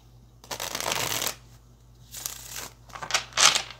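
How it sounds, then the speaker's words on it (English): A deck of cards being riffled and shuffled close up, several crisp fluttering bursts with short pauses between them. "Let's get one more good shuffle for Capricorn."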